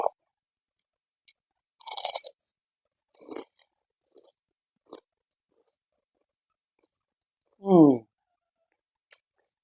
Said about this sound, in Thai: กรอบครับอืมแข็งหน่อย ของหมัก